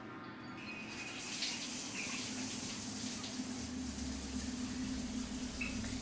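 A shower runs with water pouring steadily, a continuous, even hiss that lasts throughout at moderate level, with faint background sounds.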